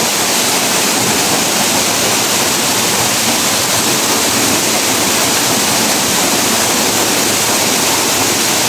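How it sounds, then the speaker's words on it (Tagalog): Waterfall in a forest, a dense, constant roar of falling water, loud and close, unbroken for the whole span with no voices. "Kaya nanggagaling sa taas yung tubig na yan sa langit."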